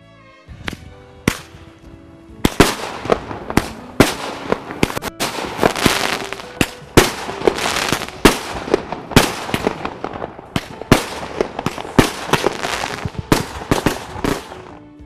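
A Tornado firework cake, a multi-shot pyro battery, fires outdoors in a fast, irregular volley of sharp bangs and crackles. The shots come continuously for about fifteen seconds, loud and close.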